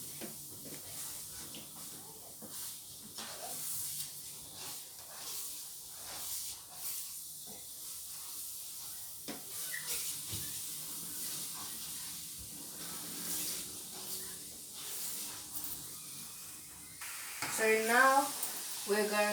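Scrambled egg scraped around a frying pan, a continuous faint hissing sizzle with soft scraping strokes, under brief speech near the end.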